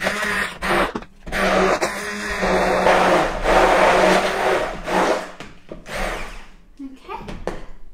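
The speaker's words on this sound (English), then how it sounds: "And all we're going to do now is use an immersion blender and blend it up." An immersion blender whirs through an egg-free vegan quiche mixture seasoned with turmeric, a loud, uneven motor drone that rises and dips over several seconds with brief pauses between pulses.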